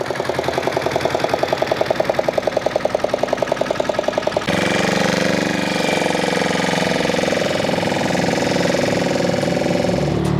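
Motor boat engine running while carrying sand for house building, with a rapid pulsing knock for the first few seconds before it shifts to a steadier, louder roar close by.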